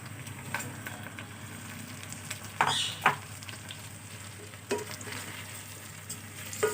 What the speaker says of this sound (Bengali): ভাজা পেঁয়াজগুলোর সাথে চালগুলো দিয়ে আমি কষিয়ে নেব।